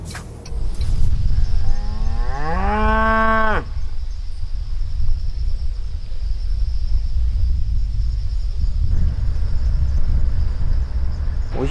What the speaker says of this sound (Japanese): 看见辐射牛了，这叫辐射牛。